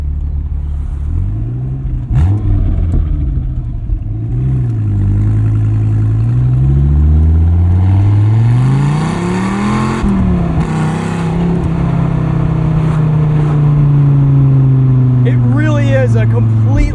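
A 2004 Dodge Viper SRT-10 engine revs up and down repeatedly while driving, its loud, deep pitch rising and falling throughout under a speaking voice.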